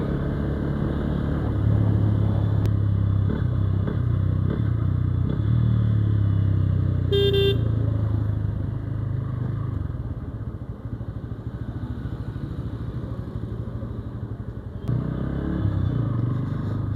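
A Bajaj Pulsar N160 motorcycle gives a steady, close engine drone throughout a ride on the road, with a brief beep partway through and no talk.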